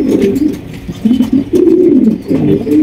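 Pigeons coo steadily at a pigeon farm, several birds calling in overlapping low rolling phrases with short pauses between bursts, close and fairly loud.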